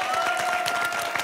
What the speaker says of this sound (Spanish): vamos a darle el aplauso para Maritza Olivares